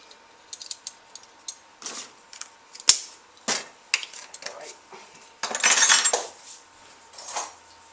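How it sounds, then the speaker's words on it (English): A spoon stirs dry homemade stovetop stuffing mix seasoned with thyme in a bowl, giving a run of light, close clinks and scrapes in irregular bursts with a denser rattling stretch near the end. "Just take a spoon and just kind of mix this up"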